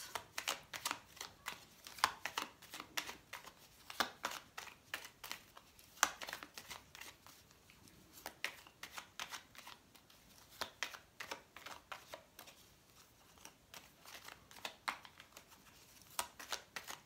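A deck of cards being shuffled, with repeated crisp riffles and flutters in irregular bursts across the stretch, fairly close and moderately loud, with no one talking.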